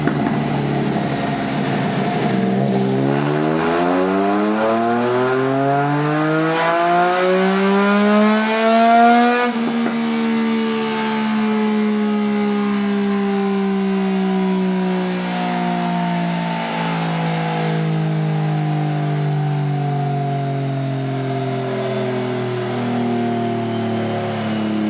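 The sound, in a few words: Triumph Trident 660 motorcycle engine revving on a dyno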